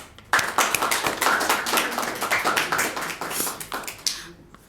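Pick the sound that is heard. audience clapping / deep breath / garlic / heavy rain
audience clapping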